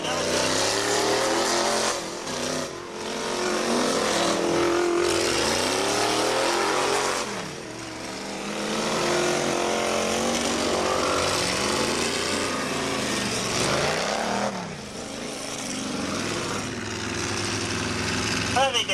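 Cannonball derby cars racing on an oval speedway in 1994, loud engines roaring and swelling as they pass repeatedly, with voices talking over the continuous racing noise.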